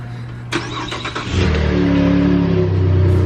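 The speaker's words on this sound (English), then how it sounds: "Cold start." A click, then a stock V6 truck engine cranks from a cold start in winter and catches, settling into a steady loud idle with a deep hum.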